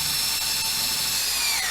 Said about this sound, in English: So I'll let the drill do the work.